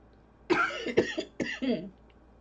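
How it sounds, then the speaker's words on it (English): A person coughs several times in quick bursts, close to the microphone, against a quiet background. "Sorry about the coughing."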